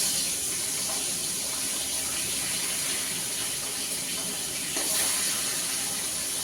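Fish frying in a pan of hot oil, giving a steady, even sizzling hiss that continues throughout with no pauses.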